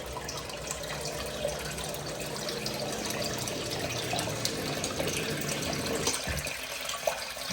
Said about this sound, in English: it's going to trigger this this sump pump to kick on